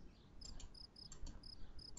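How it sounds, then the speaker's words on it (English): Cricket chirps from a video game's ambient soundscape, a rhythmic series of short, regular pulses repeating steadily at low volume over a faint background. "Like, I hear crickets."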